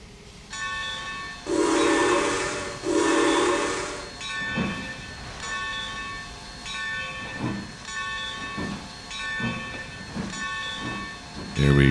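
Steam locomotive, a light Pacific on the C&O line in the Trainz 2022 game, rolls by with loud bursts of hissing steam, then rhythmic chuffing and clanking over a steady mechanical drone.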